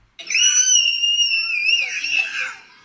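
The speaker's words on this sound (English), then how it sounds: "her 8-month-old baby was screaming loudly in this restaurant" An eight-month-old baby in a restaurant lets out one long, piercing, high-pitched scream that holds steady for a couple of seconds before trailing off, loud and close.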